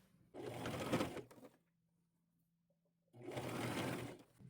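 A sewing machine zigzag-stitches fabric panels cut from pajamas, running in two steady bursts with a short quiet pause between them, close and fairly quiet, no talking.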